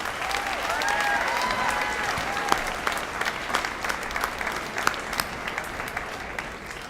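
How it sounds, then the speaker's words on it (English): Applause from an awards show crowd honouring student athletes' parents, teachers and coaches, a full, continuous round of clapping, with a faint tonal sound in the first seconds and steady claps to the end. "give a round of applause for the parents, the teachers, the coaches, and the school administrators"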